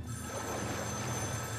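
A telephone rings in Metro Last Light Redux, a steady faint tone sitting in a low, constant ambient drone of the game's underground setting, with no talk over it.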